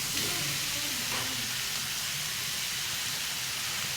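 Clams dropped into a hot pan for a Kerala-style chippi thoran, giving a steady broadband sizzle throughout with a faint low rumble beneath and no speech.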